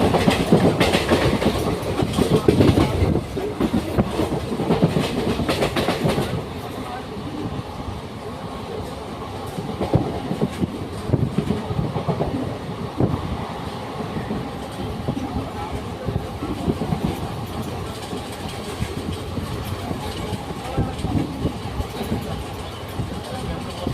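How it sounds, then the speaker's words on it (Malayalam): A Madurai Express train runs on the rails toward Tenkasi, with a steady rolling rumble and a rhythmic clickety-clack. The sound is loudest in the first six seconds, then continues more evenly. There is no speech. "തെങ്കാശിക്ക് പോകുന്ന ട്രെയിനുണ്ടല്ലോ, ഇത് മധുര എക്സ്പ്രസ്സാണ്."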